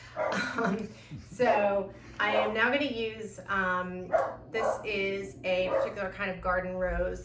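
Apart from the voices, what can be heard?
dog barking in the house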